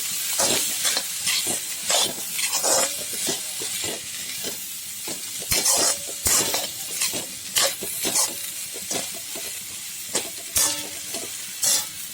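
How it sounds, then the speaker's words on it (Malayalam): Grated coconut and black pepper roast dry in a hot pan with a faint sizzle, while a spoon scrapes and stirs in quick, repeated strokes up close. "തേങ്ങ, കുരുമുളക് ഇത്രയും അരപ്പിന് വേണ്ടി വറുത്തെടുക്കാൻ വേണ്ടി വയ്ക്കും."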